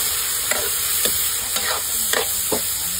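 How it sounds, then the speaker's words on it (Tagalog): Food frying in a pan with tuway (clams) added, stirred in a home kitchen: a steady close sizzle runs throughout while the spoon scrapes through it in several distinct strokes, roughly every half second, with no talking. "Halo-haloin natin."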